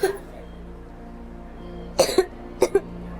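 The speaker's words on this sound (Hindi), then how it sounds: "दिखता नहीं बच्चा कितना खांस रहा है" A sick child in a hospital coughs: one cough at the start, then two bursts of harsh, closely paired coughs near the end, close and fairly loud over faint room noise.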